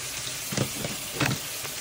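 Yogurt hits a hot pan while coconut rice is cooked, giving a continuous loud sizzle with a couple of sharper spitting bursts. No one speaks.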